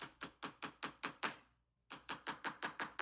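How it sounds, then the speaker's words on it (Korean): Two bursts of sharp knocking on a wooden door, about seven raps each in a quick, even rhythm, separated by a short silence, close and fairly loud, in a Little Red Riding Hood story scene. "곧 늑대가 문을 두드렸어요."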